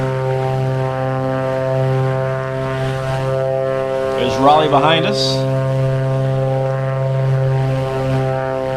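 A propeller airplane engine drones steadily and loudly in Microsoft Flight Simulator, a constant buzzing tone with harmonics, while someone speaks briefly over it.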